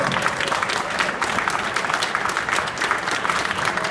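A crowd claps steadily and densely for people coming on stage, sustained applause at an even loudness throughout.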